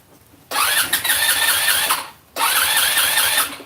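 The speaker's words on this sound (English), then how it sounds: "Let me fire it up again." A Chinese 150cc scooter engine cranks and catches twice, each time a loud, close whirring rush lasting about one and a half seconds before cutting off, with no talking.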